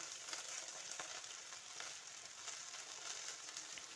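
A Kerala-style okra curry masala with turmeric and coriander powder fries quietly in a pan, a faint, even sizzle with light stirring sounds and nothing else.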